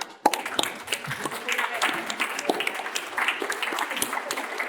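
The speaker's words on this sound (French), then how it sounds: "J'applaudirai." An audience breaks into applause, a dense crackle of many hands clapping steadily at mid distance, with voices mixed in underneath.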